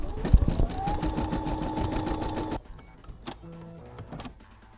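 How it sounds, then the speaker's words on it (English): An embroidery machine stitches a small heart onto stabilized fabric with a steady, rapid mechanical whir and a rising motor tone. The sound drops off sharply partway through, leaving quieter clicks and hum. "And now it is ready to go into the machine to be embroidered."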